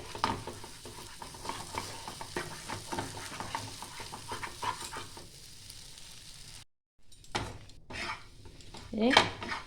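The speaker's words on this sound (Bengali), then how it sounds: "আরও এইভাবে নাড়াচাড়া করতে হবে" A spatula stirs and scrapes green pea kochuri filling around a wok as it dries out, with repeated close metallic scrapes and clinks over a soft sizzle, a brief silent gap, then a louder scrape near the end.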